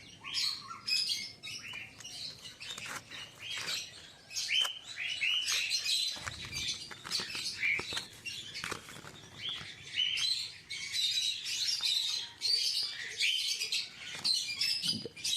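Pet birds in an indoor bird room chirp and tweet continuously in overlapping high calls, with a few sharper squawks and faint wing flutters. The chorus is soft, with no voices.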